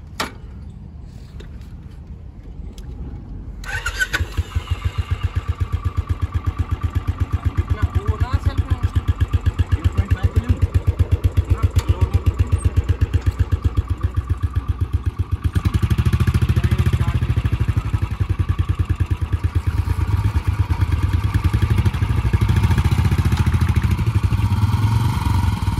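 Royal Enfield Bullet motorcycle engine starts after a quiet moment, then settles into a loud, steady thumping idle with a rhythmic low pulse that continues throughout.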